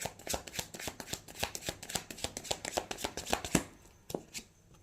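Tarot cards shuffled by hand in a quick, steady run of crisp, close flicks and slaps, growing slightly louder before stopping abruptly near the end, with no talking.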